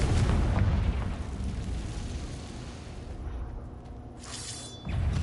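A Confringo fire spell explodes in Hogwarts Legacy: a loud, close, sustained blast roar that slowly fades, with a second burst near the end.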